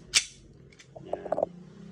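An airsoft gas rifle with a leaking gas magazine, just repaired for a full-auto fault, fires one sharp near shot, then a quick ragged burst of a few weaker pops follows after a short pause.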